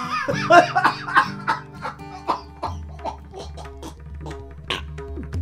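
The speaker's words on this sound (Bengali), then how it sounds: "অনু তুমি তো কাশছো কেন?" A woman coughs repeatedly in a Bengali radio drama, a close series of short, rough coughs that break into strained, laugh-like gasps.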